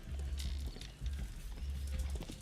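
Video game horse hooves clop in a quick rhythmic patter on cobblestones, with a low rumbling background, like a horse trotting nearby.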